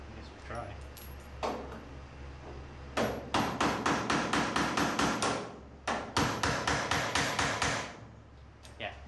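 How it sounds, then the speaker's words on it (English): A sledgehammer drives a part into a 1929 roadster pickup, ringing metallic blows in quick rhythmic bursts, several strikes then a pause and another run, loud and close with faint talk around. "Yeah, I'll be able to hammer that in with the sledge."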